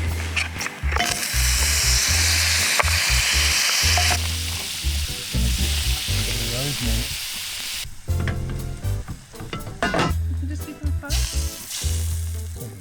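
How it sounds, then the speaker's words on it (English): Butter sizzling in a frying pan alongside pork chops, a loud hissing fry with low rumbling hum and clattering utensil noises throughout. "To this pan we're going to pop a bit of butter."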